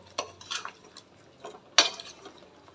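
A spoon scrapes and clinks against a pan while water bird curry is stirred with a little oil, a few soft, spaced strokes with one sharper knock, quiet and close.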